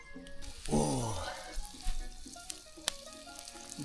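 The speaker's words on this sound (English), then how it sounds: "The sizzle." Food frying in garlic butter in a pan over a campfire, a close, bright sizzle and crackle, with a person groaning appreciatively over it.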